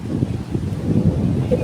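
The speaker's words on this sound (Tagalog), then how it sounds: "ang lakas ng hangin" Strong wind buffets the microphone on a hilltop garden, a low gusting rumble with people talking faintly underneath.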